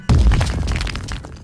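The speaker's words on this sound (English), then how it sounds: "Look, Kito, I blasted a hole through the wall." A bomb blasts a hole through a wall in The Journey Down video game: one sudden, heavy boom followed by crumbling, rattling debris that fades over about a second.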